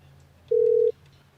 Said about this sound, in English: I don't know if you guys want to hear the ring.